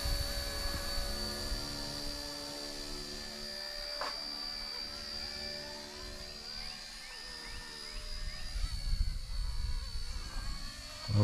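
K170 brushless RC helicopter on its maiden flight outdoors, a thin high whine from the rotor motor with tones that shift and bend as it manoeuvres, over wind rumble that swells near the end.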